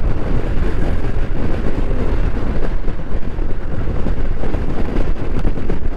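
Strong wind on a mountain road during a motorbike ride, a loud continuous low roar buffeting the microphone with rumbling gusts and no letup, close and dominant throughout.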